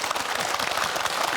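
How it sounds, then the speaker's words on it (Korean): Audience applause fills a broadcast county town-hall event in Boseong, South Korea: a dense, steady wash of many hands clapping, close and even throughout the brief burst. "이럴 때 박수 한번 치셔야 됩니다"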